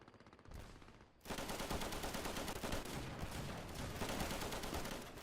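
Machine gun fire from a French gunner in the video game Easy Red 2: a brief quieter burst, then dense sustained automatic fire from about one second on, loud and continuous with overlapping distant shots.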